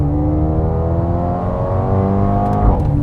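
Mercedes-AMG A35 hatchback with a 2-liter turbo engine accelerating hard, a loud, close, steady rising engine drone with a burst near the end, heard from inside the car without talk.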